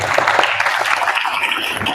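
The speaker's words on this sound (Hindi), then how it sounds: "अर्णव, के लिए ताली बजाओ भाई।" A classroom audience of schoolchildren applauds an eighth-grade boy, steady dense clapping throughout at moderate loudness with faint voices mixed in.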